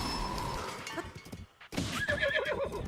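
A horse whinnies loudly up close outdoors, a long wavering neigh with hoof clip-clop mixed in, breaking off briefly before a second bright neigh.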